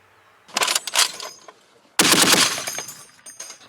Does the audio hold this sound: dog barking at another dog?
no